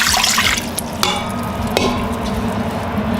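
Two cups of water poured into an Instant Pot, close and fairly loud, a splashing burst of liquid that settles into a steady trickle, with a couple of sharp clinks from the pot.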